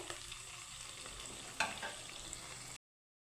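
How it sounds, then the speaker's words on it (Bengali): Poha (flattened rice) snacks fry in hot oil in a pan with a soft, steady sizzle and one brief clink of a utensil partway through, then the sound cuts off; no voices. "আমার দুই সাইড খুব সুন্দর করে ভাজা হয়ে গেছে"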